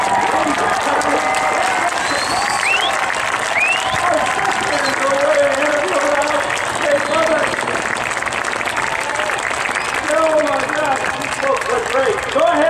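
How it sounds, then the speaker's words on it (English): Crowd at the Oshkosh airshow applauding and cheering as aircraft arrive, a sustained dense roar of clapping with whistles and a commentator talking over it. "Go ahead, applaud them in, whistle, shout, wave your arms like crazy."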